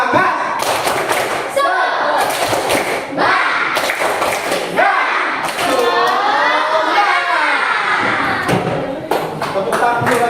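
A classroom of young pupils performs a rhythmic cheer clap led by a teacher, bursts of sharp group claps alternating with chanted voices in a lively, reverberant room.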